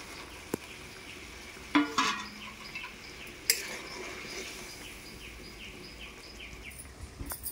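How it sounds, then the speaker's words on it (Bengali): Fried eggplant pieces dropped into simmering gravy and stirred, soft sizzle underneath with a few sharp clatters and scrapes of a spoon against the pan, close and fairly quiet. "এরপর ভেজে রাখা বেগুনগুলো দিয়ে দেবো এই গ্রেভির মধ্যে"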